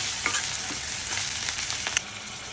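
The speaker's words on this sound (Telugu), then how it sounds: "అల్లం వెల్లుల్లి పేస్ట్ అండి. ఈ పచ్చివాసన పోయే వరకు వేయించుకోవాలండి." Ginger garlic paste and onions sizzle and crackle in hot oil in a pan, a dense continuous frying hiss with a few soft stirring taps.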